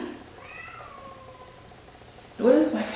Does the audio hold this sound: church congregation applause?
no